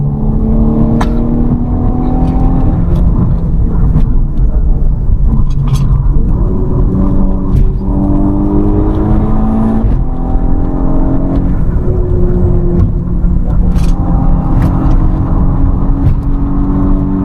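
Mk6 VW Golf R with Haldex four-wheel drive on an urban fun drive with traction and stability control switched off, its engine a loud, close rumble that rises and falls through repeated acceleration and gear changes.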